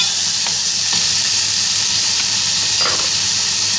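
Chopped onion sizzling in hot oil for a Goan macaroni soup, a steady, close frying hiss with a few soft stirring clicks and no talk.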